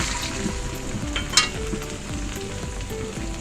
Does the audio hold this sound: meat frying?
yes